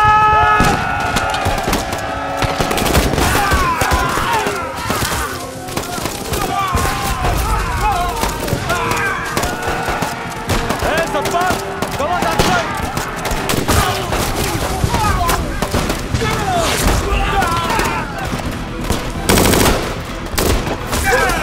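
Battle scene in a war film with dense machine-gun bursts, rifle fire and heavy artillery booms, rapid overlapping cracks and blasts throughout, and a voice speaking beneath the din.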